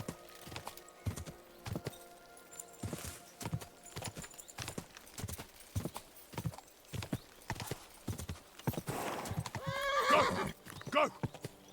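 A horse in the medieval game Kingdom Come: Deliverance II clops along in quick hoofbeats, with a brief whinny near the end and some talk mixed in.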